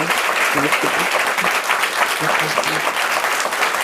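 Loud, steady audience applause for Dr. Rogers at a library event, dense clapping throughout with a voice speaking faintly beneath it at moments.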